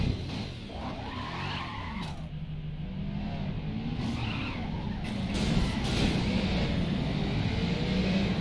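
Race car engine and tire noise from the Race Driver: Grid video game, a fast GT1 car skidding with squealing tires over a steady engine drone, fairly loud and continuous throughout.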